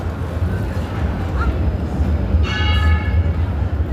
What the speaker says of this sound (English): Ring the bell or get squashed.